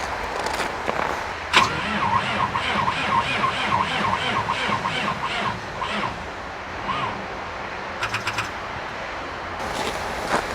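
A 6.6 Duramax diesel swapped into a Jeep is cranked for a cold start in freezing weather. The starter churns in a steady rhythm for several seconds without the engine catching, followed by a few short, sharp bursts.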